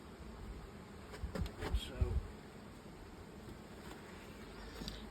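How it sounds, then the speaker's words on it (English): Buckfast honey bees buzz around a hive in a garden, a soft continuous drone with faint rustling and a few nearby handling thumps. "As you can see, the bees are quite active."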